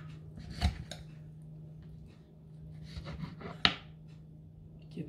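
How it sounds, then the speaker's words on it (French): Knife slicing salmon for homemade sushi in a kitchen, a few soft cutting strokes and light clicks of the blade against a board, close and quiet over a low steady hum, with one sharper tap near the end. "je prends le saumon, voyez, je coupe le saumon"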